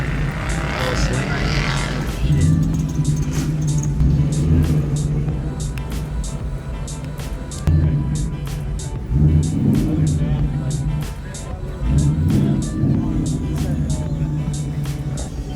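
A modified Ford Mustang with a 5.0 engine revs outdoors in repeated loud, close bursts over a steady idling rumble, while people talk nearby.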